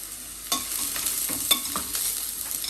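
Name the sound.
yam frying in oil in a pan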